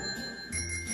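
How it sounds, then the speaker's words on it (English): A bell rings in a radio studio, leaving a sustained high metallic tone that lingers clearly over the low hum of the room. "Ring the bell for the first time."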